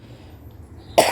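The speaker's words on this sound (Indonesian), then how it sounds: "Mohon maaf teman-teman, batuk." A single sharp cough from a man telling a story bursts out at the very end, loud and close after near silence.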